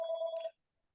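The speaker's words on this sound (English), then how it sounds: "Got my phone going." A phone rings with a bright electronic ringtone, a single short burst of steady tones that cuts off abruptly, close and clear with no talk over it.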